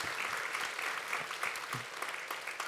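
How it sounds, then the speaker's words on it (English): Audience applause at a university service awards ceremony, fairly faint, with many separate claps forming a lively, uneven patter heard alone. "I want you all to give yourselves a round of applause"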